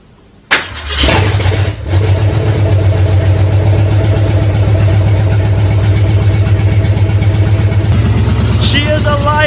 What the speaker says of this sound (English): Let's go ahead and do the first ever startup with the long tube headers